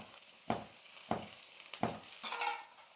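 Bonda deep-frying in hot oil: a steady sizzle broken by three or four sharp scraping strokes as the pieces are turned, then a brighter bubbling burst near the end.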